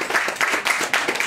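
Audience applause at a birthday celebration for twin sisters turning 80, steady clapping from many hands at close to moderate distance, filling a brief stretch with no talk.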